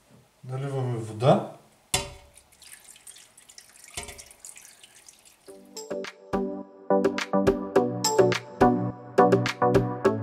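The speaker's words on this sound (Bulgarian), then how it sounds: "Наливаме вода." Water runs from a tap into a cooking pot for pig ears, starting as faint trickling and building into a steady, gurgling pour with dripping splashes. Someone speaks briefly before the pour.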